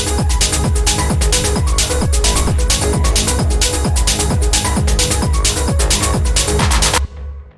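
An unmixed techno track plays loud and steady, a pounding four-on-the-floor kick under dense hats and synth layers, driving at a constant tempo before stopping suddenly near the end.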